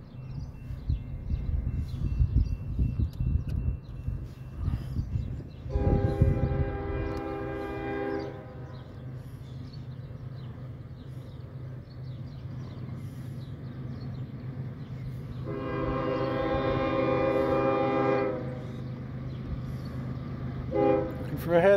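A northbound Norfolk Southern mixed manifest freight with three locomotives rumbles past on track two at the Millsdale Avenue crossing. Two long horn blasts sound over the steady roll, and a third begins just as it ends.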